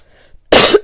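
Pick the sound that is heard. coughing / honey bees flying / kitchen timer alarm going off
coughing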